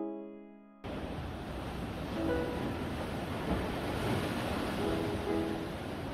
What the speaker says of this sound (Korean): 파도가 밀려올 때면 저도 모르게 움찔움찔 놀라게 됩니다